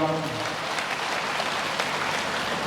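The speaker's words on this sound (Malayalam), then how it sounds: "നമുക്കൊന്ന് കൈയടിച്ച് പരസ്പരം അഭിനന്ദിച്ചാലോ?" An audience at a church leadership gathering in Cherupuzha claps in sustained, dense applause, a steady crowd-wide patter with no pauses, fairly close.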